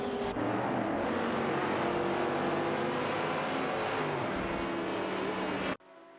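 A Ferrari 275 GTB/C and a Shelby GT350 race in a video game, their engines a loud, steady roar that holds for almost six seconds before cutting off abruptly to a quiet hum.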